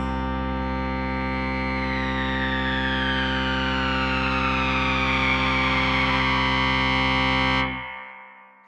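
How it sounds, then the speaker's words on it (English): A MOTOR Synth MKII synthesizer plays a sustained, buzzing, distorted drone that slides steadily downward in pitch as the cross modulation changes, holding loud and steady for about seven and a half seconds before cutting off abruptly. "Now let's turn our attention to the cross modulation effect and enter the cross mod settings screen."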